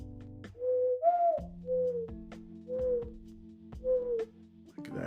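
A person imitates a mourning dove, giving four breathy whistled coos in a slow, evenly spaced series, close and fairly quiet, with a steady hum underneath.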